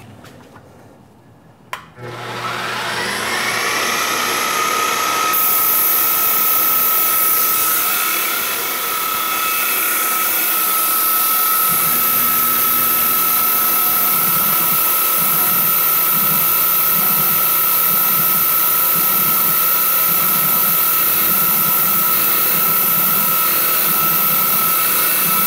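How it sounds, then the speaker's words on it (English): A loud powered drill starts after a brief click and runs continuously at high speed in a workshop making low-profile edge jaws, a steady whining mechanical roar that barely varies. "And the next tool will be the drill."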